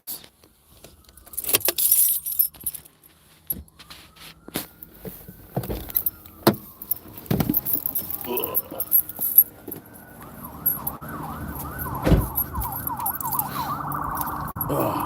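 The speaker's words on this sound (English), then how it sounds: "Let me grab my keys." A bunch of keys jangles up close in repeated sharp metallic rattles and clinks, spread over about fifteen seconds, while a wailing siren rises and falls faintly in the distance toward the end.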